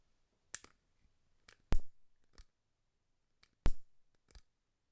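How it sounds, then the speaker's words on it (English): A handheld lighter clicked several times up close, sharp isolated snaps with a couple of louder clicks followed by short fizzing tails, in an otherwise quiet room. "No, it's a lighter."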